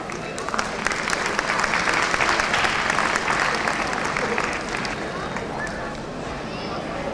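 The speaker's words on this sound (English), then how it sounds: "Please give them a huge round of applause for they appreciate the hard work they have put in." An audience at a live televised show bursts into sustained applause, a dense wash of many hands clapping loudly throughout, easing slightly toward the end.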